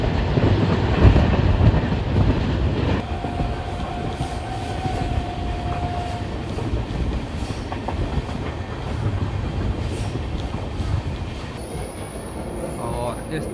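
Lalkuan-Bandra SF express train running on the Bareilly–Moradabad main line near Rampur Junction, heard from on board: a steady loud rumble of wheels on track with metallic squeals and a faint clickety-clack, no talking.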